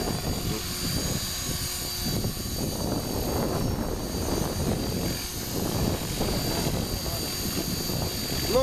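A radio-controlled 450-size helicopter flies outdoors by a road, its steady rotor and motor drone running continuously at moderate loudness with no talk over it.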